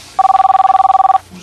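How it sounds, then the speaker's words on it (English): A telephone bell rings loudly in a rapid, steady trill for about a second, close by and alone, with a faint low hum after it stops. "Oh, the phone."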